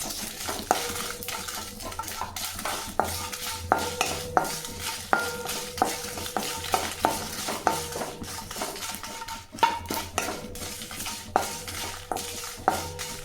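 About ten dried red chillies are dry roasted in a pan. A utensil stirs them with a steady rhythm of light scraping and clinking against the metal, close and fairly quiet, with no talk.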